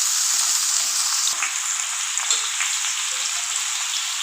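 Pieces of young jackfruit and potato fry in a pan of hot oil for a vegetarian dish, giving a loud, dense and unbroken crackling sizzle with small pops throughout.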